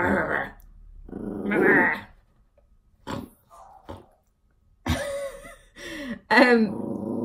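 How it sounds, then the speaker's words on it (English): Guard dog growling up close in low rumbling bursts, with pauses between and louder snarling growls near the end. "good guard dog."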